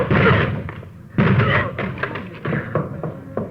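Several heavy thuds and bangs strike a locked door being forced open in quick succession, loud and close, with a burst of impacts and rattling.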